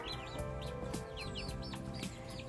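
Wyandotte chickens give soft, repeated clucks and chirps close by, with faint, scattered pecking taps, all quiet.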